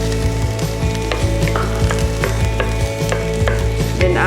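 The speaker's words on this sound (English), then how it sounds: "And another thing with sauteing the garlic and the onions" Onions and garlic sauté in a pan for a snow pea, shrimp and cashew dish, a steady close sizzle broken by regular scraping stirs and a few clinks of the utensil, with no voices.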